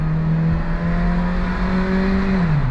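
A Mitsuoka Viewt engine drones loudly and steadily up close, its pitch holding before dropping slightly at the end, with no talking.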